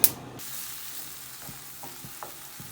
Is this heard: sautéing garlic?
yes